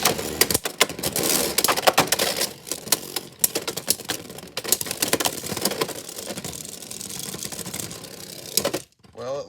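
Beyblade Knightmail spinning and battling Tyranno Beat in a stadium: dense, continuous rattling and clattering of tops colliding against the plastic bowl, loud and close, ending abruptly with a brief scrape.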